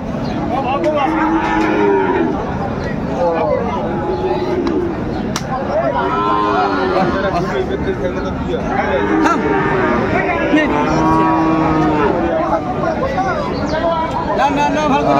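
Sahiwal calves and bulls moo repeatedly at a busy cattle market in Dinajpur, loud nearby lowing calls rising over constant crowd chatter and bargaining voices.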